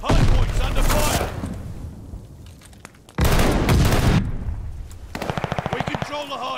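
Video game gunfire at a contested hard point: loud bursts of rapid machine-gun fire and heavy booms, broken by a brief lull and ending in a fast stuttering volley, with game voice lines mixed in.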